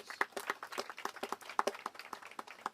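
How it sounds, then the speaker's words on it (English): Scattered audience applause at a county event launching a veterans monument campaign, light, uneven claps heard from a short distance, fairly quiet, with no talk over it. "Let's give Lisa a big round of applause."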